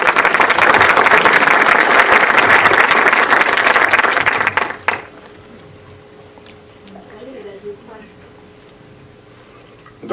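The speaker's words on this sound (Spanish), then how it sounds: "un aplauso para nuestros compañeros" Audience at an event in Colombia applauds colleagues with loud, dense, sustained clapping for about five seconds, then it cuts off to quiet room tone with faint voices.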